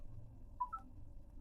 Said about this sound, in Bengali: আরেকবার ফোন লাগান দেখি কি বলছে